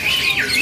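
At a bird kiosk, a Javan pied starling (jalak suren) gives a loud, close, harsh squawking call with rising and falling whistled tones.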